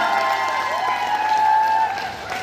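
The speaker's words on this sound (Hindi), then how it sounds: "तालियां रुकनी नहीं चाहिए दोस्तों" An audience at a training event in Jaipur claps continuously to welcome the guests. The applause is a sustained wash of crowd clapping, with tonal sounds running underneath.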